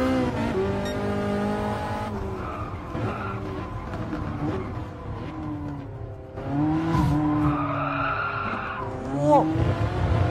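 Tires squeal and a car skids in the racing game Gran Turismo Sport, long wavering screeches over a steady engine roar, repeating several times.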